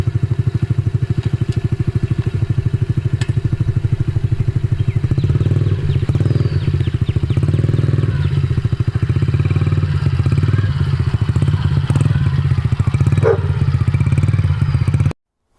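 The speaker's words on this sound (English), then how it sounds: "Have them do this, where they start the bike, put it in gear, and walk with it." Motorcycle engine running at a steady idle with a rapid even putter, close by, as the bike is put in gear and walked along, with some clatter and handling noises partway through.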